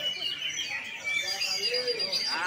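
An oriental magpie-robin (kacer) songbird at a bird contest in Tabanan, Bali sings in varied whistles and chirps, heard close and clear with someone talking and coaxing in the background.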